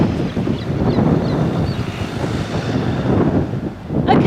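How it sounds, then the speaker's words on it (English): Sea waves wash against the shore at a coastal location while strong wind buffets the microphone, a loud rushing roar that swells and eases, with no voices. "apart from those waves, I also heard the wind, and I heard some seagulls, and I also heard some traffic"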